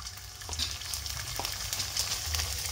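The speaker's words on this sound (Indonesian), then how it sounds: "Goreng karak guys." Karak rice crackers (kerupuk puli) fry in hot oil, giving a steady close sizzle with crackling pops and faint stirring noises, quiet and without talk.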